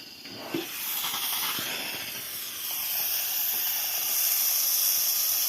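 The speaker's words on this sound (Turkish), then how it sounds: "Bayağı bir buhar atıyor." An H2O X5 steam mop releases steam in a continuous loud hiss that swells gradually and keeps going, with a small knock near the start and no talking.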